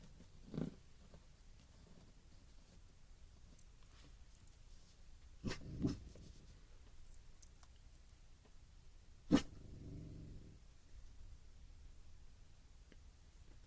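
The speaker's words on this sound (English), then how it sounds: "Are you barking at birds?" A few short dog barks spaced several seconds apart, fairly close, with quiet background between them.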